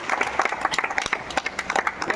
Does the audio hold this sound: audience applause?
yes